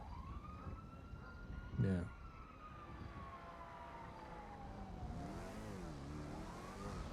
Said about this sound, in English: So he just puts on his sirens and just runs around?